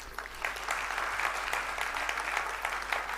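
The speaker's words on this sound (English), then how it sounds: "Let's clap for our parents." Graduation ceremony audience clapping for the parents, a continuous patter of many hands at moderate loudness throughout the short stretch, with no voices over it.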